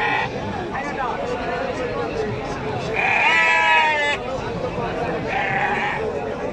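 Sheep bleat loudly in repeated wavering calls at a busy livestock market in Tebaria, Natore, rising over a constant background of crowd chatter and nearby voices.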